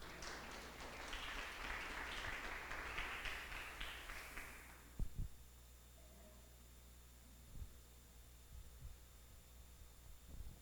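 A church congregation applauds for about five seconds, a faint, distant wash of clapping that breaks off abruptly into near silence, with a few soft knocks afterward.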